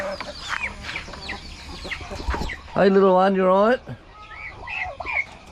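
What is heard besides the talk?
chickens clucking at feeding time on farm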